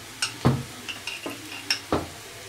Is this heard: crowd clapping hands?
no